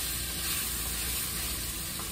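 Fried rice with ginger sizzles steadily in a hot pan, a continuous close crackling hiss with no talk.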